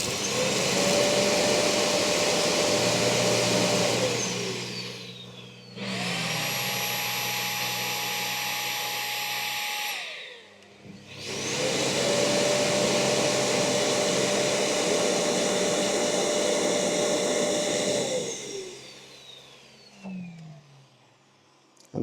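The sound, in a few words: eufy E20 robot vacuum self-emptying collected dust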